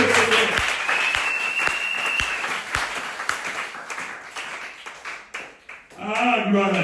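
Congregation clapping for the Lord during a Tuesday worship service, steady applause with a few sharp louder claps, tapering off before a voice returns at the end.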